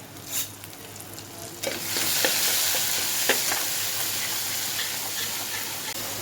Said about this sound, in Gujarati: અહીંયા મેં પાલક ઉમેરી દીધી છે. હવે એને મેં થોડીક વાર સુધી ફ્રાય થવા દેવાની છું.